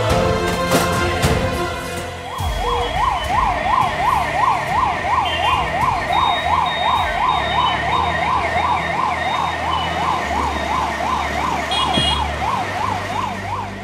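An ambulance siren wails steadily in a rapid rising-and-falling pattern, loud and close, over low road rumble.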